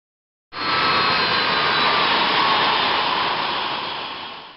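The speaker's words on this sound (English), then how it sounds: "Let's shut down the left engine." Boeing 777 left engine during shutdown, a broad jet roar that starts abruptly and holds steady, then slowly fades as it winds down.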